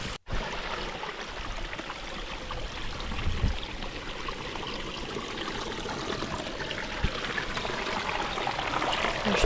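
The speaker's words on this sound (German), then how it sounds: "Einfach so schöne Wassergeräusche." A small mountain stream in Andorra flows steadily throughout, a continuous broadband rush and trickle of water heard up close with no voices.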